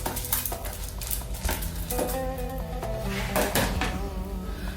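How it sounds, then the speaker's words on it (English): Basmati rice being stirred into lamb stock in a pot for machboos, with soft scraping, clinks and knocks of a utensil against the pot in irregular bursts, fairly quiet and close. "Give that a stir."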